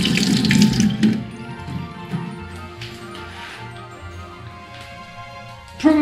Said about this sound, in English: wash our carrots.